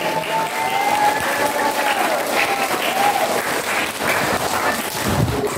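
Children at a Maulid Nabi religious gathering clap their hands together loudly and continuously in a dense, sustained round of applause, with a voice faintly audible beneath the clapping.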